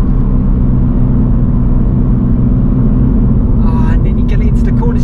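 A Toyota GR86 driving on UK roads, heard from inside the cabin as a loud, constant low engine drone with steady road rumble beneath it and faint higher noise toward the end.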